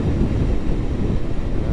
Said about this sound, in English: I just hear my bike.